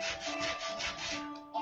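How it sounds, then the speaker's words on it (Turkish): Steady rasping of sandpaper rubbing back and forth over wood by hand in a workshop, several close strokes in a continuous rhythm, with no voices. "zımpara yapıyor burada."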